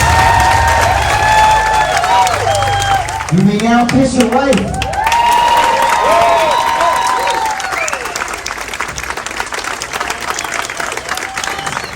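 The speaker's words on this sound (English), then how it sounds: "Can we give them a big round of applause?" Wedding guests applaud and cheer with whoops right after the couple is pronounced husband and wife at a Long Island catering hall, a dense, loud crowd sound running throughout while an officiant speaks over it.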